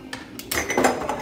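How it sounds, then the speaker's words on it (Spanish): A ratchet wrench tightens a part on a Rock Shox RS-1 suspension fork, giving a brief run of close metallic clicks and clinks that lasts about a second. "el rache simplemente para darle ajuste"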